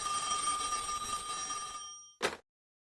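An indoor telephone bell rings steadily and moderately loud for about two seconds, then stops, followed by a short click and silence.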